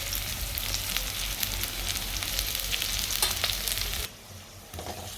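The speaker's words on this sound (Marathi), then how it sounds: "कांदा परतून घेते छानपैकी, आणि मग कारले ते कारले तर टाकायचे." Chopped onion and bitter gourd sautéing in hot oil in a pan, a dense, steady crackling sizzle that drops abruptly quieter near the end, with no voices.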